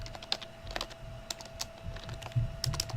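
Fingers tap a computer keyboard in irregular bursts of distinct, close-up clicks, with a steady faint electrical hum underneath and no talking.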